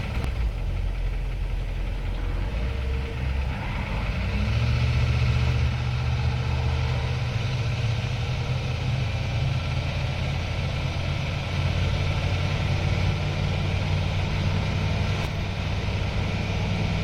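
A 1988 Hummer H1 Humvee engine idles steadily with a deep, rumbling drone that grows slightly heavier after a few seconds, then holds a continuous low throb with faint mechanical vibration throughout.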